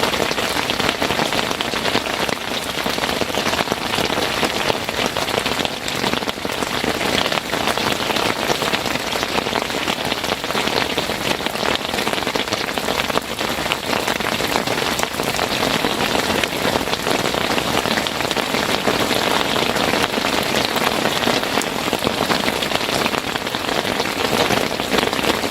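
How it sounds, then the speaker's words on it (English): Rain falls on fishing bite alarms outdoors, a dense, constant patter of drops hitting hard surfaces, loud and unbroken with no talking. "Raindrops on the alarms"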